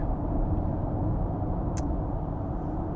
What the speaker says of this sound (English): So I do have noticeable tire noise.